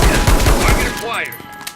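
Gunfire in the Reservoir Dogs video game, a loud close burst of rapid shots over about a second that cuts off into a ringing, fading tail.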